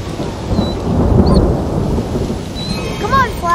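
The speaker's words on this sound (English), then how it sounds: "Don't worry, it's only thunder." Loud, deep rumbling thunder rolls through a stormy animated scene, swelling and fading, with brief whistling and chirping sounds near the end.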